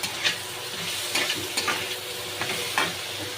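Green chilies frying and stirred in a pan while cooking soybean chunks with potato, a steady close sizzle broken by several sharp scrapes of the spatula.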